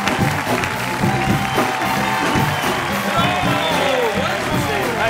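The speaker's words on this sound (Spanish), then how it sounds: "Un fuerte aplauso para recibir a Travis Van Winkle y Ruth Connell." Studio audience applauding and cheering to welcome guests on a late-night Spanish-language TV talk show: a loud, dense wash of clapping and crowd noise, with music and voices running underneath the whole time.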